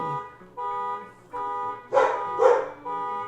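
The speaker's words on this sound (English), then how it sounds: "there's some sort of noise between cars and the dog" A dog gives two quick barks close together near the middle, rising over a steady, looping car-alarm-like tone that runs throughout.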